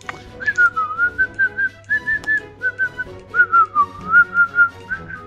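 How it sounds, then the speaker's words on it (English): Someone whistles a short wandering tune up close, a series of clear pitched notes in little phrases, alone with no talking. "The whistling is okay."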